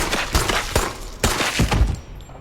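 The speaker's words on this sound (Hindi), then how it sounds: "आखिर इसने गोलियां चलवाई थी यार मेरे से" Gunfire in a zombie video game set in a village, likely shotgun blasts: several sharp, loud bangs spaced irregularly across a couple of seconds, with no talking over them.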